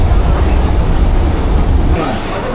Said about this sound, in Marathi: आम्ही आणि हे दुसरी ट्रेन पकडली. आता विरारला पोहोचूया